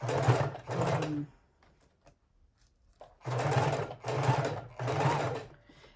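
A sewing machine stitches lace onto a fabric book cover in short bursts, two, then a pause, then three more, close and moderately loud.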